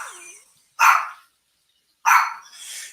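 A dog barks twice, loud and close, the sharp barks separated by about a second of silence, with a softer whine or yelp before the first bark and after the second.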